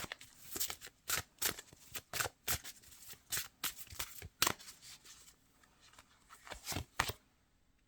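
Tarot cards being shuffled in a quiet room, with a run of crisp riffling flutters and snaps coming in uneven bursts up close, then settling as a single card is drawn near the end.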